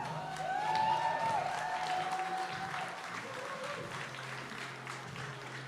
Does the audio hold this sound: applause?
yes